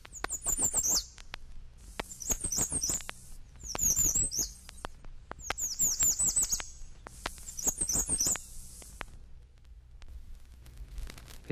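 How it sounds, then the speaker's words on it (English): Repeated high, thin American Redstart songs, each a quick series of sibilant notes ending in an accented phrase, given about five times in close succession against quiet background, no voices. "American Redstart."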